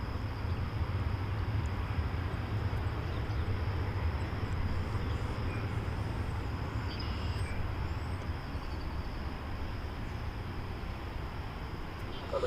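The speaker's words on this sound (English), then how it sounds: "Flight 2150 arriving from Minneapolis, St. Paul. 737-800." A Boeing 737-800 airliner arriving at DFW Airport gives a steady, distant jet roar, broad and sustained across the whole stretch, with faint wind and a low background hum.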